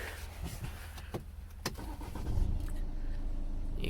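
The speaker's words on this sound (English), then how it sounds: "if I start the car up for you" A 2015 BMW 520d diesel saloon starts up: a short crank and catch, then the engine settles into a low, steady idle close by, with no talking.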